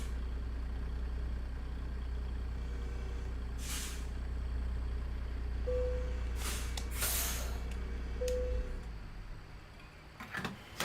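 A truck with an N14 engine in a driving game, fitted with a ZeeMods sound mod, rumbles in a deep, loud, steady drone, punctuated by several sharp air-brake hisses and short tonal blips before the engine fades.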